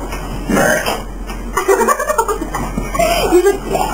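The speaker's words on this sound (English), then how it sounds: "I'm burping away." A few throaty burps break out in quick succession, close up, with some chuckling and talk mixed in.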